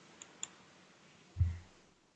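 Two faint, quick mouse clicks land close together on a sign-in button during a web registration, followed by a soft dull thump in an otherwise quiet room.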